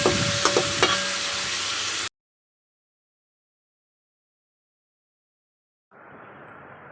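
A loud sizzle and hiss as fish curry gravy is added to a hot pan of tempering for about two seconds, then abrupt silence, followed by a faint, softer frying hiss.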